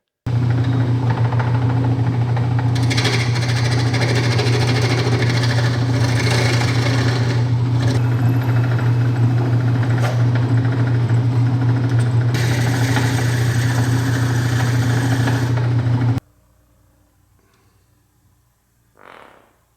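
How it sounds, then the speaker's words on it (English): A lathe turns a wooden piece glued onto a knurled nut with a loud, steady motor hum and a faint scraping texture for about sixteen seconds, then stops abruptly, leaving near silence. "let me show you how I did that on my lathe"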